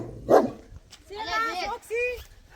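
A dog barks once up close, then gives a couple of whining, yelping calls, with people talking quietly around it.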